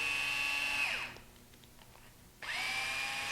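A power drill with a 2.5mm bit removing screws from a radio-controlled car's body mount whirs at high speed, winds down and goes quiet for a moment, then spins back up sharply, loud and close.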